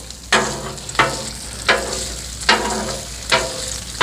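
Jalapeño and bacon frying in a pan with bacon grease, a loud steady sizzle broken by five evenly spaced sharp stirring scrapes, close and without talk.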